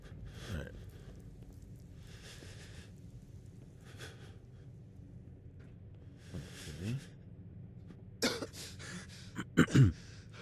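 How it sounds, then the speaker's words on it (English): Coughing in the video game Fallout 4: faint, short coughs recur a few times over a low steady background hum, closing with a sharper cluster of louder hacks. "It's funny that coughing is triggered every time you cross that point right there."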